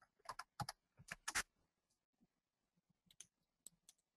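Quiet typing on a computer keyboard: a quick flurry of key clicks, a pause, then a few more scattered taps, faint and close with no talk.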